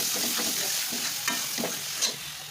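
Grated carrot stirred into a hot pan for carrot halwa, a close steady sizzle broken by soft rhythmic scraping strokes, no voices.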